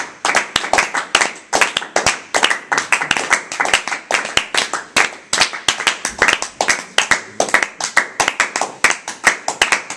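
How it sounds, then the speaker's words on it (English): A small group of people claps in a room, fairly close and loud, with distinct, uneven hand claps layered in a quick irregular rhythm that continues for the full stretch. "I think people feel inspired to applaud."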